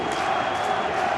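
Rugby crowd at a Glasgow v Stormers quarter-final roaring in approval of a Glasgow defensive effort, a steady, full stadium swell of cheering with no break.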